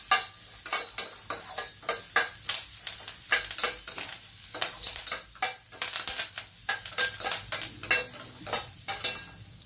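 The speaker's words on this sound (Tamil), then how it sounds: "நல்லா வதக்கணும்." Herbs sautéing and stirred in a hot pan while making mooligai rasam: steady close sizzling broken by frequent scraping stir strokes, with no voices.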